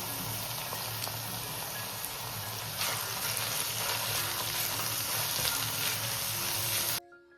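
Mixed vegetables with grated beetroot frying in a pan for Bengali vegetable chops, a steady close sizzle that grows slightly louder partway through, then cuts off near the end.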